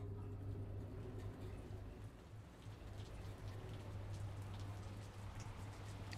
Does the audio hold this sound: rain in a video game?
yes